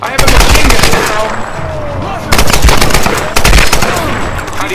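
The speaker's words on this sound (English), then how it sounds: "I have a machine gun now" Machine gun fire in the Tomb Raider: Definitive Edition video game, loud rapid bursts of automatic gunshots in several volleys, with the sound of battle carrying through the gaps.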